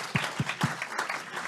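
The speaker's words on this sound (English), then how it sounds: "Let's give a warm round of applause to Michael Kremer's" A few distinct claps open an audience's applause after Michael Kremer's presentation at a food policy report launch, followed by a soft, diffuse patter of clapping, brief and moderately quiet.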